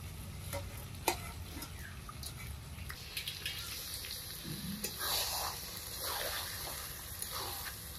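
Spiced water, rinsed from a bowl of ground cumin and coriander, poured over mutton cooking in a pan for a Bengali curry; a soft, steady sizzle and stir with faint watery splashes runs throughout at a low level.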